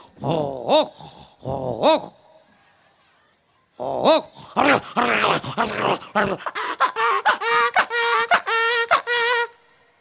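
A man on a comedy show imitates two dogs fighting with his voice, giving loud bursts of snarling, growling and yelping that come in short clusters and then a rapid, frantic run.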